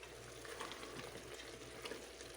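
Beans being sautéed in a hot pan give a quiet, steady sizzle and crackle, faint and continuous with no voices.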